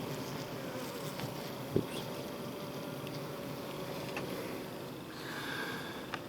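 Honeybees lodged in the ceiling of a farm building drone in a low, steady hum close by, broken once by a sharp knock.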